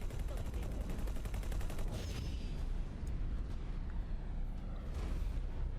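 Flak cannons fire continuously in the space game X4: Foundations, a dense, steady barrage of rapid booming bursts with a rhythmic pulse that holds at an even loud level throughout.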